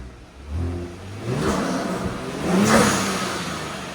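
Kia Stinger GT with a 3.3-litre twin-turbo V6 revs up twice, close and loud, each rising engine roar ending in a sharp hissing whoosh from the blow-off valves.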